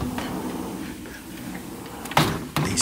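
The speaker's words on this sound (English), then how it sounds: "These doors close just like that." A back porch door in a new-construction Florida home slides shut with a soft rolling sound, followed by two sharp closing knocks near the end, close and clear in a quiet room.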